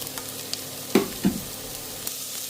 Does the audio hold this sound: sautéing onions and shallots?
yes